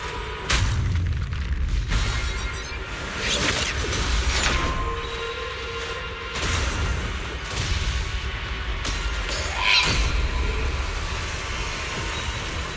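In the action game Zenless Zone Zero, a detonation unfolds as a run of heavy booming impacts and crashing bursts, several sharp blasts spaced over a rumbling, mechanical battle din.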